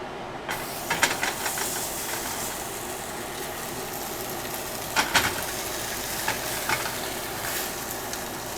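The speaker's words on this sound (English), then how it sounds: "And we'll get that nice sizzle in a second here." Steaks searing in a hot pan give a steady broadband sizzle and hiss throughout, with a few brief louder spits and crackles near the start and again midway. No one speaks.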